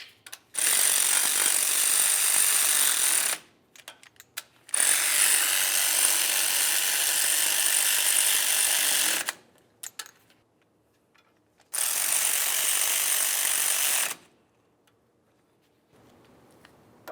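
An impact or ratchet power tool runs in three long buzzing bursts while snugging wheel hub bolts on a 1999-2002 Lincoln Navigator, close and loud, with short clicks and quiet gaps between.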